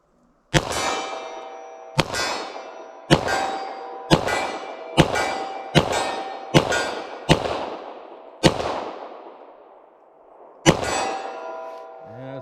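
Nine loud .40 S&W pistol shots hitting a steel target at 25 yards, each a sharp bang followed by a ringing metallic clang. The shots come in an uneven rhythm, with a longer gap before the last one.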